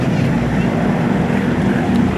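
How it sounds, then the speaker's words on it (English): SNJ aircraft with R1340 nine-cylinder supercharged radial engines drone steadily at an airshow, a loud continuous rumble mixed with wind noise. "These SNJ engines are the famous R1340 9-cylinder supercharged radial engine capable of producing"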